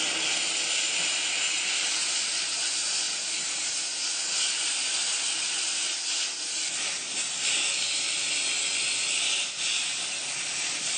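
Small handheld steam cleaner blasting a jet of steam at stained grime, a steady, loud, close hiss that holds unbroken for the whole stretch with slight flutters in intensity.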